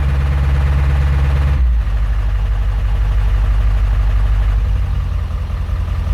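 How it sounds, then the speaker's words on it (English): A diesel truck engine with a ReviewDiesel Medusa tune sits at high idle, a loud steady low rumble that shifts pitch once early on and then holds evenly, close by with no talk. "There's my high idle tune."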